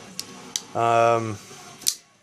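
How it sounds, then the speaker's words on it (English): Hinderer XM18 3.5 Gen4 Spanto folding knife flicked open with its thumb stud: a few sharp metallic clicks around a brief buzzing, ringing tone, close and alone. "I have no problem flipping this. Thumb stud deployment."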